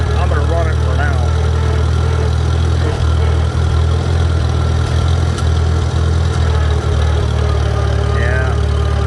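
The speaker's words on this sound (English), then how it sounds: "Engine sounds good." A tractor engine idles steadily after its radiator cap was replaced, producing a loud continuous low rumble with an even throb that runs the whole time, with faint background noise over it.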